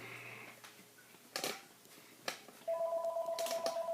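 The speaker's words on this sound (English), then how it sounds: "Oh, that's the phone." A household telephone rings in an indoor room, loud steady electronic ringing tones that sound in bursts, with a couple of clatters and thumps in between and no talking.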